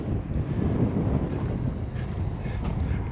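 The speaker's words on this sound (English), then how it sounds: "Oh, it's awfully windy" Strong wind buffets the microphone on a farm field at planting time in a steady low roar that fills the whole clip, with no voices over it.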